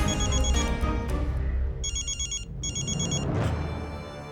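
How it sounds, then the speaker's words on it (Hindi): A telephone bell ringing in a tense domestic drama scene, two bursts of electronic trilling ring tones repeating at a steady rhythm over background music, fairly loud and close. "अरे फोन उठा।"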